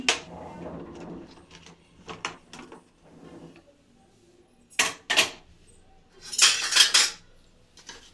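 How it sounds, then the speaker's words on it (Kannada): Metallic clanks, scrapes and knocks as a pressure cooker lid is twisted and lifted off after the whistle, several sharp bursts in a quiet room. "ಇವಾಗ ಕುಕ್ಕರ್ ಮುಚ್ಚಳ ತೆಗಿತಾ ಇದ್ದೀನಿ"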